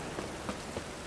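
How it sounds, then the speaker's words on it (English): Rain falling in The Witcher 3 video game, a steady close hiss of drops on surfaces with a few soft louder patters, heard alone without voices. "I like rain. Keeps the rogues indoors."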